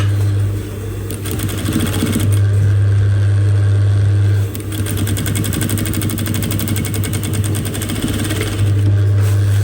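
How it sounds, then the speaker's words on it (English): Sewing machine stitching layers of bra cup fabric together, a loud, close, continuous mechanical whir with a steady rapid needle rhythm and a strong low hum that dips briefly mid-run before resuming. "So now I'm sewing it."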